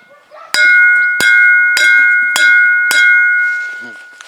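Five sharp strikes on a home-cast bronze bell, each leaving a bright lingering ring that overlaps the next, close up; the ringing fades out at the end.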